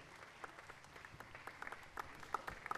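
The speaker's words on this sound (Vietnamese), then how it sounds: "Quý vị vỗ tay lớn hơn nữa được không ạ?" A concert hall audience applauds after the London Symphony Orchestra performs in Hanoi, a steady, fairly distant patter of many hands with scattered sharper claps, heard faintly throughout.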